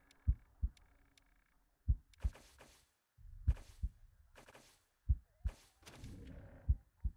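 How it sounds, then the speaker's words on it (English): A character's heartbeat in the video game Wasteland 3 thumps as paired low beats, lub-dub, repeating steadily about once a second, with some brief game noises between the beats. "I can hear the heartbeat of poor Chris"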